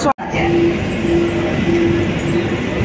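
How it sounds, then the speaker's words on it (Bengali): A Kolkata Metro train pulls out of a station, a steady loud rumble of wheels and motor with a sustained whine rising and falling, heard from inside the carriage after a sharp brief break at the start. "তো ট্রেন ছেড়ে দিল।"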